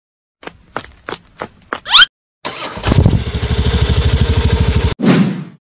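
A cartoon motorcycle in an animation clicks several times, then its engine catches and settles into a loud, rapid, steady idle before a final rev, all up close.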